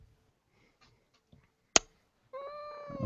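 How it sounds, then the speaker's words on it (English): A grumpy, heavy house cat lets out a clear, drawn-out meow close by in a quiet room, preceded by a few faint clicks and a sharp tap. "Oh, kitty. Look at the kitty."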